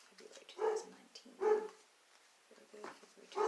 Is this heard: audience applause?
no